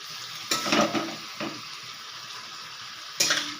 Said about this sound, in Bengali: সেদ্ধ করা কচুর পাতাগুলো দিয়ে দিলাম। এবারে এটাকে আমি ভালো করে কষিয়ে নেব।